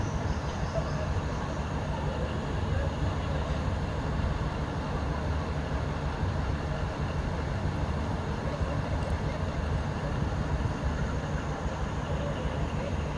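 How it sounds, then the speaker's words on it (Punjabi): A double-engine train stands at Dera Baba Nanak railway station in Gurdaspur, giving off a steady low engine rumble that runs without a break across the whole stretch. "ਡਬਲ ਇੰਜਨ ਵਾਲੀ ਟ੍ਰੇਨ ਹੈ"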